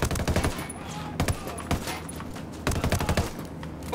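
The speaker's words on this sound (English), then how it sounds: "Apache's about to fire. Get down." Apache attack helicopter firing in the Ghost Recon Wildlands video game: repeated loud bursts of heavy automatic gunfire and impacts, several sharp volleys spread across the stretch, close and harsh.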